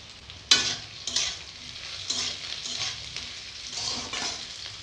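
Onions, green chilies and chopped ginger frying in a pan for a homestyle cauliflower-and-meat curry, a steady close sizzle broken by several loud scraping stirs of the spoon, no voices.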